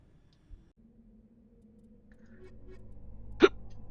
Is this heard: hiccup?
yes